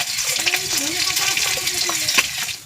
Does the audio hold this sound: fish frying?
yes